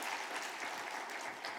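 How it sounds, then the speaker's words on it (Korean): A church congregation applauds, a dense, even wash of clapping from many hands throughout, with no speech over it. "교회가 이렇게 박수로 맞이해 주시니 따뜻하고 너무 좋습니다."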